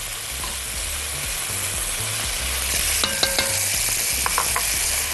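Onions and potatoes sizzle steadily in butter in a pan, a continuous close frying hiss with light stirring scrapes and clinks toward the end.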